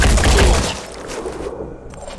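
Gunfire in the Phoenix Point game, a short loud volley of shots fading into rumbling echo, close and alone without speech.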